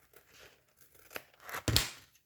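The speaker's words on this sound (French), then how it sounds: "Je vais déjà découper un petit peu." Cutting materials for a homemade Christmas tree decoration gives a few close snipping and tearing sounds, quiet at first and then a louder crisp cut near the end.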